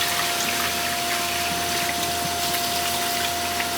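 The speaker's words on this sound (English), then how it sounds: "I'm running the wort almost full blast, and the water's turned on pretty high as well." Stout wort and cooling water rush at high flow through a plate chiller on a homebrew day, a loud, steady pump-driven gushing hum that continues unbroken with no pauses.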